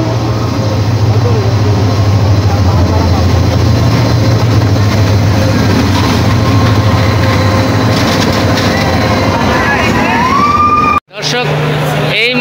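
A passenger train bound for Cox's Bazar rumbles steadily with a low continuous drone and wheel clatter, loud and close throughout, then cuts abruptly near the end as a rising whine and muffled voices follow.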